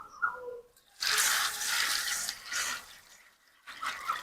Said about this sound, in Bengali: দেখো মুড়িগুলো আমি জল দিয়ে ভালো করে ধুয়ে নেবো।